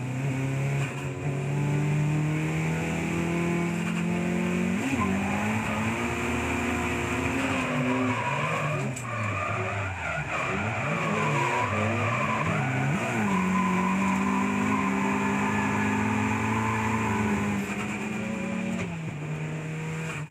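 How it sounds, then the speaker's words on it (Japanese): Drift cars roar through the hairpin at the 2003 D1 Grand Prix round at Fuji, engines revving hard and dipping as they shift, with tire squeal and skidding running continuously and loudly for the whole stretch. "谷口は実に60キロを超すという巨大トルクでハイギア5速まで上げ、アクセルワークで合わせるつもりだったが、今村のヘアピン減速があまりに大きかったためシフトダウンを余儀なくされてしまった。"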